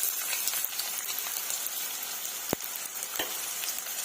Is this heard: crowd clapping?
no